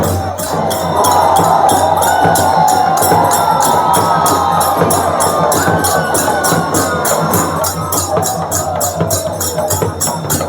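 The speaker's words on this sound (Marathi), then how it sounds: "हा जो जल्लोष असतो धुळवडीचा श्रीवर्धनकरांचा तो पाहायला मिळतो आपल्याला" A festive crowd celebrating Dhulivandan in Shrivardhan roars in a dense, continuous wash of cheering and shouting. Steady rhythmic beating runs through it and stays loud from start to finish.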